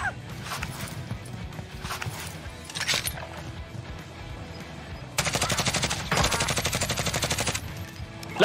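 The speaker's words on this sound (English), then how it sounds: "Someone else is shooting now?" Gunfire in the Warzone battle royale video game: scattered shots early, then a sustained rapid burst of automatic fire over the last few seconds, moderately loud against game background noise.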